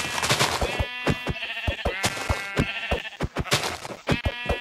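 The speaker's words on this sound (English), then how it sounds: "Oh my gosh, how many sheep are here?" Several sheep in the video game Minecraft bleat close by. The calls overlap in quick succession, loud and repeated, and no voices talk over them.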